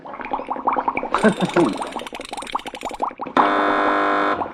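A long, steady game show buzzer tone blares for about a second at the end, following a stretch of lively chatter and laughter from a TV panel show studio.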